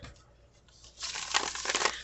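Tarot cards being shuffled, a soft papery rustle that swells into a louder, busier riffling near the mic after a quiet start.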